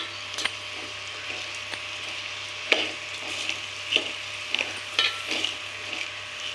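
Onions and salt being stirred in a pan, a soft frying sizzle under repeated scraping and clinking of a spoon against the metal, close and irregular, no talking.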